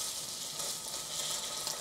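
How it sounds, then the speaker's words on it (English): Butter melting in a hot pan before pork is seared, giving a steady, even sizzle and fry hiss throughout with no break. "we're gonna melt another tablespoon of butter"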